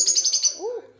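A pet bird at bedtime gives a quick run of high, bright chirps, followed by a lower rising and falling whistle-like call, close and fairly clear.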